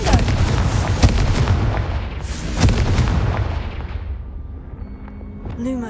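Repeated Confringo explosion spells from Hogwarts Legacy in a haunted Hogsmeade quest, a loud barrage of booming blasts with sharp cracks, dense at first and thinning into a rumbling fade toward the end.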